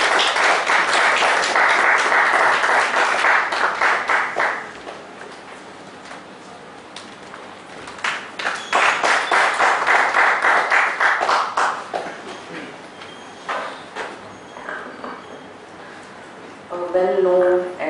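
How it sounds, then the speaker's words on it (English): An audience at a seminar on the Sabka Vishwas tax dispute resolution scheme claps to welcome the day's speaker, in two loud sustained bursts separated by quieter stretches with scattered taps and a brief voice near the end. "Please give a big round of applause."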